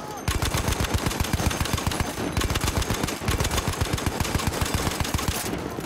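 Sustained light machine gun fire from a new LMG in Battlefield 1 on the Turning Tides DLC, a fast, steady stream of close, loud shots with brief pauses between bursts and no talking.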